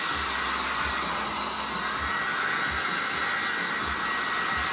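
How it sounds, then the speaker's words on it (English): A hair dryer blows steadily over an acrylic painting with a loud, continuous broadband whoosh and a faint low hum underneath, running without pause. "I'm gonna hit it with a hairdryer real quick"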